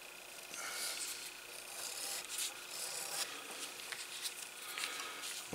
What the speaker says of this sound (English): We'll bevel all four edges.